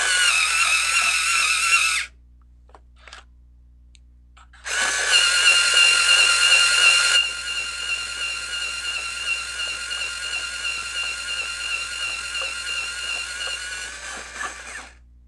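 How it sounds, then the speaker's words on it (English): An electric pencil sharpener grinds a drawing pencil in loud, steady bursts: a short whir, a pause with faint clicks, then a longer continuous grinding that eases slightly in pitch and level toward the end. "Actually, I'm going to sharpen this up a little bit."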